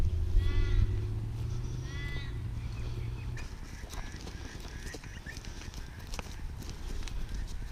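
An Arabian stallion's hooves clip-clopping in a steady walking rhythm while it is saddled for training, with sheep-like bleats early on and livestock sounds in the background.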